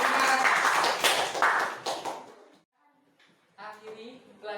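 Classmates clap their hands in a lesson for a couple of seconds, a dense burst that fades out, followed by a pause and then a voice speaking.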